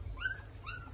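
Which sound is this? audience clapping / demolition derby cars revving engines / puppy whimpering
puppy whimpering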